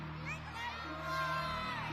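Arena crowd at a Monster Jam truck event yelling and whooping, a broad wash of distant voices from the stands building slightly toward the end, with a steady low hum underneath.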